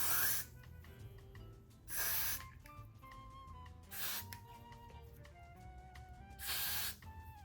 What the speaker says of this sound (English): put down hairspray, I mean